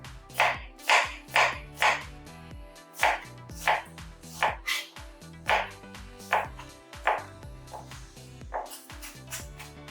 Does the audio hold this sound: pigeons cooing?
no